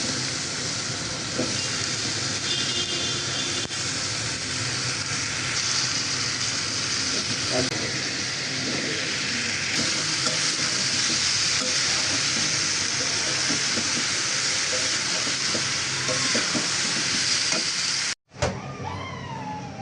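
Pointed gourd and potato pieces frying in cooked-down spiced masala, giving a steady close sizzle and hiss with occasional stirring scrapes throughout, and someone talking in places before a sudden cut near the end.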